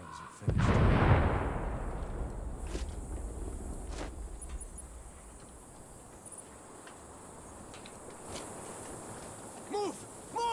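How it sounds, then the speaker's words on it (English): A deep boom erupts from a military shooter video game, a loud low blast near the start that rolls off into a long rumbling tail beneath ambient noise and scattered small sounds. "I heard an explosion"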